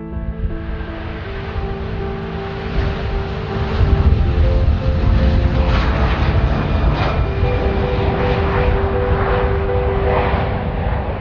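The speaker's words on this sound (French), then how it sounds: "Nous nous apprêtons maintenant à décoller et nous vous prions de bien attacher vos ceintures" Inside an XL Airways airliner on its takeoff run, a loud, steady engine roar and rumble builds after a few seconds and holds, with a broad rushing noise filling the cabin and no talking.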